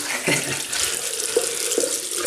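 Tap water runs steadily into a bathroom sink while a double-edged Edwin Jagger DE89L safety razor is rinsed during a wet shave, a close continuous splash with a few brief knocks and swirls.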